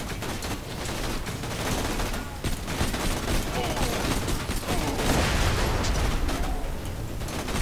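Rapid gunfire from weapons in the video game Borderlands 2, a dense, continuous stream of shots and bursts at steady loudness, with players' voices mixed in underneath.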